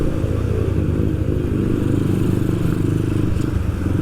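A motorcycle engine drones loud and steady nearby on a street, a rough low rumble that holds for the whole stretch without dropping away.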